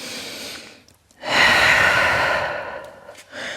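A deep breath during downward dog in a gentle vinyasa yoga flow: a short inhale, a pause, then a long, close, airy exhale that slowly fades, followed by another brief breath.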